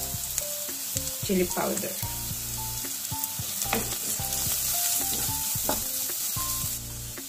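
Onions, bay leaf, salt, turmeric and chili powder fry in a pan for hotdog adobo, giving a close, continuous sizzle with occasional clinks, while a voice talks briefly over it.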